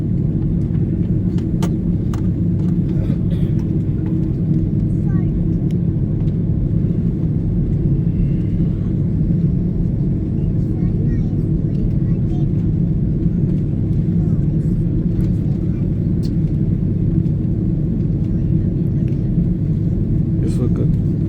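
Steady low cabin rumble inside an airliner taxiing toward its parking position after landing in Barcelona, a constant engine and rolling drone with faint clicks, heard throughout while a cabin announcement plays over it.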